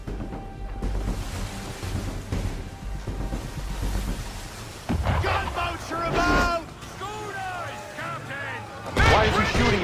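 Booming cannon and gunfire aimed at a sailing ship in Assassin's Creed 3, several heavy blasts scattered among shouting voices and crew chatter over creaking, sloshing sea ambience.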